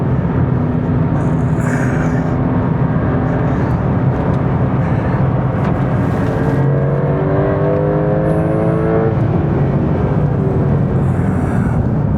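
Porsche 911 Turbo S hybrid driven hard on a track, its engine a loud, sustained in-cabin roar with rising and falling revs and brief shifts, continuous throughout.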